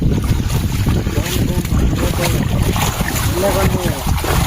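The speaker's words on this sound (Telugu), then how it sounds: "చూడండి ఫ్రెండ్స్ అలా గాలి వస్తుందో ఈ గాలి ఇలా నీరు ప్రవహిస్తుంటే" Strong cyclone wind roars alongside rushing, flowing water in a village hit by Cyclone Montha, a loud unbroken wash of gusts and current with a voice speaking over it.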